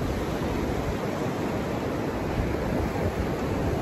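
The Colorado River at the bottom of the Grand Canyon rushes in a steady, loud, broadband roar of flowing water, unbroken and close, with no talking.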